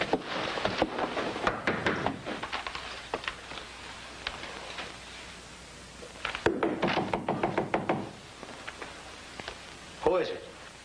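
Knuckles rap on a door in two bursts of quick, sharp knocks with a pause between, fairly close, with a brief thump at the end and a moment of muffled talk.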